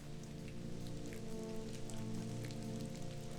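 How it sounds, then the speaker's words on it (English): Rain falls outside on a winter cycling trip, a steady, soft patter of drops on a surface over a low background hum, with no one talking. "It's raining."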